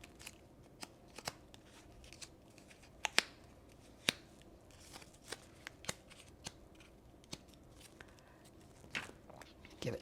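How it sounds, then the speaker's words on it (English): Paper peony petals are curled with a bone folder, giving soft papery scrapes and light crisp clicks scattered irregularly over a quiet background, close and faint. "So I want to curl up some of these petals with my bone"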